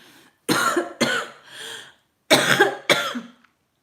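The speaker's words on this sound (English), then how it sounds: "Hopefully my cough and my clearing of this will be gone." A close series of coughs and throat clearing, five or six rough bursts separated by short pauses, with no speech.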